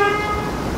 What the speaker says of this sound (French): Pourquoi tu klaxonnes?